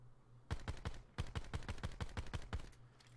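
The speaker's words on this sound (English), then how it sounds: "Next up, we're going to use the pistol." Pistol shots from Call of Duty: Black Ops 4 fire in a quick, steady sequence of about a dozen sharp reports across two bursts. A brief pause separates the bursts, and the shots are loud and close with no talk.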